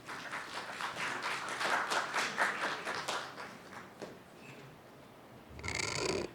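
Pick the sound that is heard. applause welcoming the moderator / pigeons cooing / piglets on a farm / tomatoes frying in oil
applause welcoming the moderator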